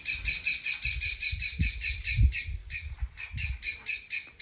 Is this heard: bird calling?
yes